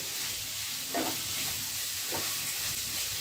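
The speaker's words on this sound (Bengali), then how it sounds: "এবার মাছ দিয়ে মশলার সাথে একত্রে ভালোভাবে আমি কষিয়ে নেব" Dried loitta fish stir-fried with spices in a pan, a steady close sizzle with a couple of brief stirring scrapes, no voices.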